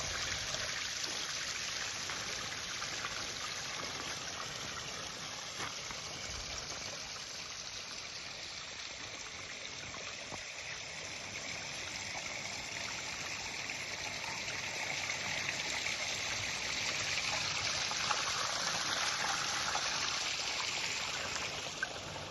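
A small garden waterfall stream flowing over stones on a landscaped plot gives a steady, soft, continuous splashing and trickling, faint and unchanging throughout, with no voices.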